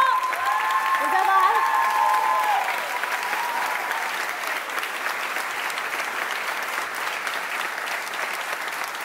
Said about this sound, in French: vous pouvez leur faire un tonnerre d'applaudissements